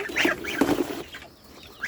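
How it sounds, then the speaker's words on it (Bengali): Young goslings on a home poultry farm give a few short, bright honking peeps in quick succession, close by, with no talk over them. "এই হচ্ছে আমার রাজহাঁসের বাচ্চা"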